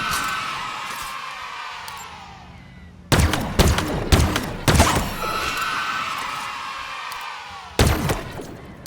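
Gunfire in the Halo Infinite mission Outpost Tremonius, with a sustained ambient wash of battle noise broken by several loud sharp shots and bursts around the middle and again near the end, fairly close.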